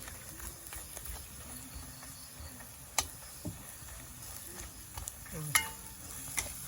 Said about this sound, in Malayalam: ഒരു ലേശം മുളകും പൊടി അതിലിട്ടിട്ട് ഒന്ന് വറുക്കുന്നുണ്ട്